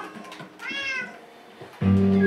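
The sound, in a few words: cat meowing in Minecraft video game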